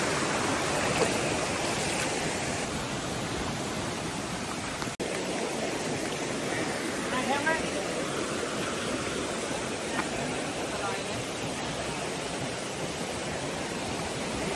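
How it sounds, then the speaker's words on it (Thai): A forest stream flows steadily over rocks at Phu Sing, a continuous close rushing wash of water that fills the whole clip with only faint intermittent sounds on top. "เราเดินดูน้ำไหลนะฮะ"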